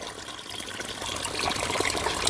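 Filtered drinking water pouring out of a household water purifier, a steady trickling splash that holds constant at moderate loudness for a couple of seconds with no talk over it.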